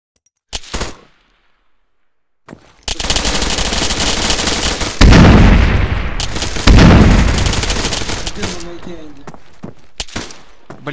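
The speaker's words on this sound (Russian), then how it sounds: "центр стреляет еще за Хантером где-то." Automatic gunfire rattles through a competitive capture-the-flag video game match in a 2015 league, opening with a short burst and pause, then sustained loud bursts and booms that gradually thin out.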